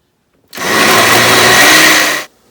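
A kitchen blender runs for almost two seconds, mixing ingredients with a loud, steady, high-pitched whir that starts and stops abruptly, with no talking.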